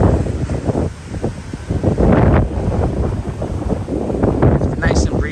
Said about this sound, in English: It's nice and breezy today. It's very beautiful weather. It's not hot. It's windy. The wind's cold.